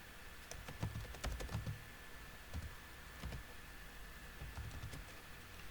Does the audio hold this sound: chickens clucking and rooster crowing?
no